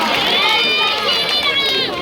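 An audience at a Ramlila performance in Sri Anandpur Sahib applauds in a steady, dense wash of clapping and crowd noise, loud and close, over a short stretch.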